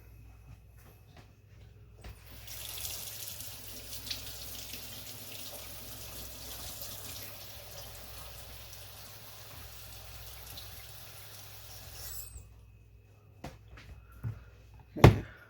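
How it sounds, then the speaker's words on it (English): Water runs steadily from a tap into a container of sliced cucumbers for sweet and sour pickles, a soft continuous rushing that lasts about ten seconds before stopping, followed by a few faint knocks and clicks. "So I'm going to throw some water in right now."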